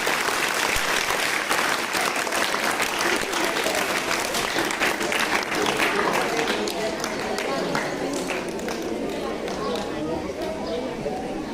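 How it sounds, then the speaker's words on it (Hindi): A crowd at a college farewell ceremony applauds loudly, dense sustained clapping that fills the space and carries on evenly, with voices and chatter mixed underneath. "तो उसके लिए भी एक जोरदार तालियां हो रही है।"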